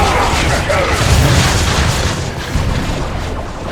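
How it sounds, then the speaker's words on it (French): A heavy boom sounds in the Dawn of War 2 video game, a loud low rumbling blast that rolls on for a few seconds amid dense battle noise, with game voices mixed in. "Changement de position de l'explosion."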